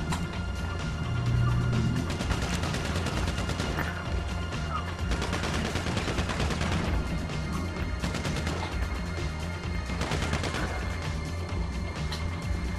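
Gunfire fills a GTA 5 heist mission, a continuous loud barrage of overlapping shots and crashes that persists throughout with only faint traces of voices.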